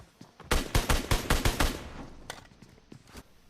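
SKS rifle gunfire in a video game: a rapid run of about eight loud, sharp shots in quick succession, then a pause and a few more scattered shots trailing off, with no talk over them.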